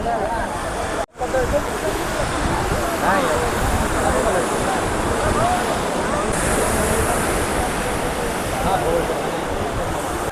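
Steady roar of sea surf with wind buffeting the microphone, continuous and fairly loud throughout.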